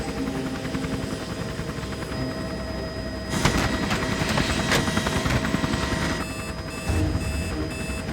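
A helicopter flies in a drama scene, its rotor thumping steadily and loudly with a constant whine, joined by sharp beeping alarm tones and a few louder bursts, with no talking.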